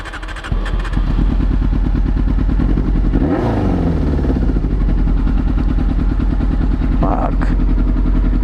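A carbureted four-cylinder superbike with a Yoshimura exhaust runs loud and close, a steady rough drone with one brief rev swell partway through, with no talking over it.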